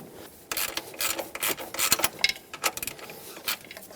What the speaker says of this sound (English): I'm going to start these screws in.